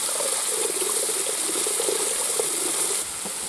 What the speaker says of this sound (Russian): Так, добавляем водички.